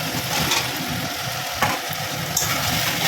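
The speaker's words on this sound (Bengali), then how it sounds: "আর ভালো করে কষিয়ে নিতে হবে এইভাবে" Chicken pakoras sauté in a tomato, soy and ketchup sauce for chilli chicken, giving a steady close sizzle with a couple of brief scraping stirs, and no voices.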